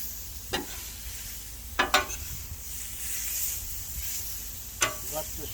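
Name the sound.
ground hamburger with onion and garlic sizzling in pan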